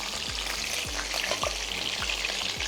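Tangra fish fries in hot oil with a continuous close sizzle and repeated sharp spattering pops, no voices.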